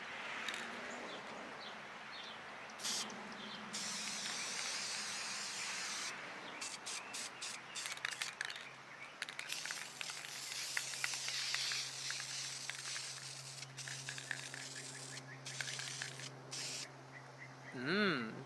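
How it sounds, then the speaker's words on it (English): A long, steady hiss of spray paint on a dice box, with short pauses between bursts, close and continuous, and a faint voice near the end. "And let's get to spraying."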